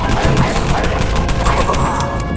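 Rapid machine gun fire in the zombie shooter Dead Frontier, a dense, loud fusillade of evenly spaced shots rattling continuously for a couple of seconds.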